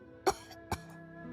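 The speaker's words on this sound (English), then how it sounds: "Suddenly I heard my grandma coughing." An elderly grandmother who is ill coughs twice, two short, close, hoarse bursts about half a second apart, followed by quiet.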